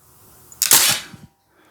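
A single close, loud shot from a Crosman DPMS SBR CO2 blowback BB M4 rifle: a sharp pop with a gassy burst and the clack of the cycling blowback action, then quiet.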